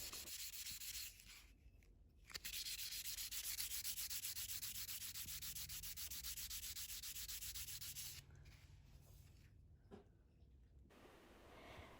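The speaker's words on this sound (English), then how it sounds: "and sand the back, and this is in preparation for soldering on my tie-tack pin back" Close, steady rubbing and scraping comes from sanding the back of a resin-inlay metal pin to prepare it for soldering, with brief pauses between strokes.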